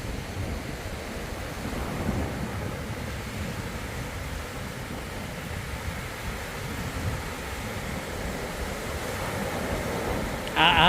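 Steady surf and gusting wind at Bonuan Blue Beach (Tondaligan) in Dagupan City, Pangasinan, a continuous roar with wind buffeting the microphone and a brief louder burst at the end.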